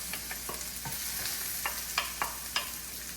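Garlic and onion frying in a pan, a continuous faint sizzle with a series of light scraping stir strokes at irregular intervals.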